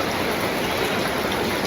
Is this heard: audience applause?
no